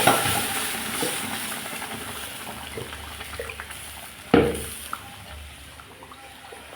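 Lentils tipped into a cooking pot during simple home cooking land with a sudden splash and hiss about midway, over a steady background sizzle and faint kitchen noise.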